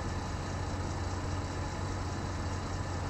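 Kenworth truck engine idling in American Truck Simulator, a steady low rumbling drone held evenly throughout with no talk over it.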